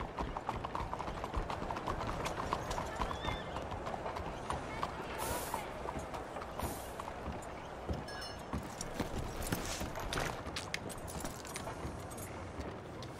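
Horse hooves clip-clop steadily alongside jangling tack in the Red Dead Redemption 2 game world, a continuous rhythm at moderate distance with voices talking over it.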